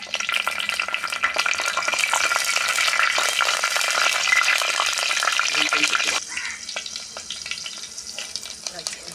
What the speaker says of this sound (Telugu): కొంచెం నూనె వేసుకోండి ఇలా పోయి జీలకర్ర వేసుకోవాలి